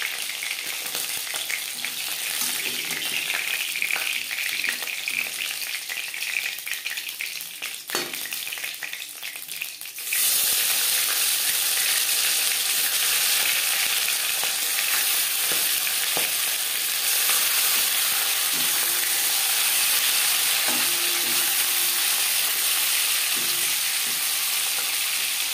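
Soft Bhola Vetki fish fry in oil in a pan, a loud, continuous close-up sizzle and hiss that grows brighter and denser midway, with occasional faint clinks.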